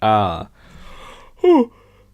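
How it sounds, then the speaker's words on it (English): A big, drawn-out yawn during a live drawing stream: a loud voiced breath opening the sound, a quiet pause, then a shorter falling vocal groan, close to the microphone. "A big ass yawn."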